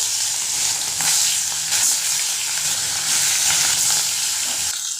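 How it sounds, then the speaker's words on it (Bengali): Fish frying in hot oil in a home kitchen crackles loudly and close, a bright sputtering sizzle that swells in bursts over a constant hiss, with no voices. "মাছ ভাজতে বসিয়ে দেবো"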